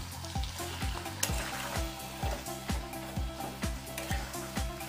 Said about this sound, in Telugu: ఈ విధంగా వేయించుతూ ఉంటే జిగురు, నిమ్మకాయ వేసాం కదా మనం, అందుకని జిగురు మొత్తం పోతూ ఉంటుంది